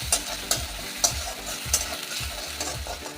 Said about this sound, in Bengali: নারকেল ভালো করে ভাজা হয়ে গেছে